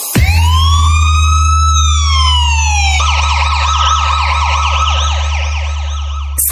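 A bass-boosted police siren blares loud and close, first a long rising-then-falling wail over a heavy booming low end, then switching to a rapid repeating yelp pattern until the end.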